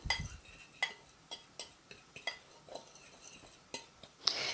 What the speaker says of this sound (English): We're going to mix that up.